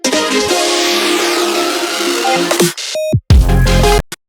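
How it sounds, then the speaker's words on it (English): A dense electronic wash swells and then stutters into choppy, glitchy cuts and bursts before falling silent, loud and without voices. "We kind of have this glitchy moment to like really tie in the tension"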